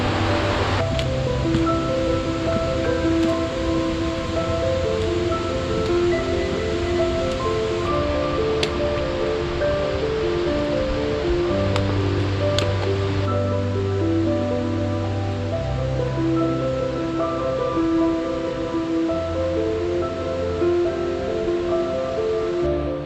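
Waterfalls on the Rivo di Caserine mountain stream near the Caldenave hut in the Lagorai range make a steady wash of water under sustained musical tones.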